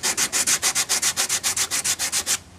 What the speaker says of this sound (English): by sanding it, it'll be nice and smooth